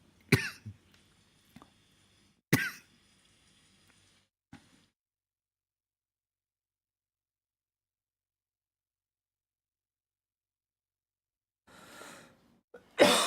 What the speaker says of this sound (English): Apologize for my coughing.